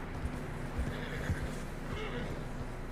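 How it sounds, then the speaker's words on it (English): Horses snort and whinny over the soft thud of hooves in fresh snow, with a low rumble underneath, in the video game Red Dead Redemption 2. "Horses are struggling."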